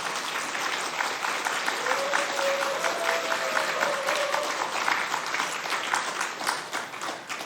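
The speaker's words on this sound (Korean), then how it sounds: "박은 집사님에게 박수 한번 쳐주세요" Sustained audience applause in a church congregation during a Sunday service, a dense, even wash of many hands clapping throughout, with a brief voice or tone rising faintly underneath midway.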